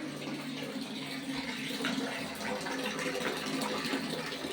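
Steady, fairly quiet rush of tap water running into a tub, continuous throughout with no talking.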